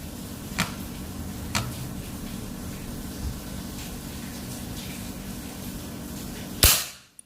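Second shot from a Predator folding PCP air rifle with a 40 cm Yumaja multi-slug barrel at 3500 psi: faint ticks and clicks over a constant background hiss, then a single crisp, near pop that cuts off quickly.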